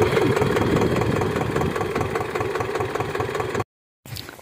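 A farm tractor's engine idles loud and close while its radiator is topped up with water, a steady throbbing rumble that cuts out abruptly near the end, then resumes faintly.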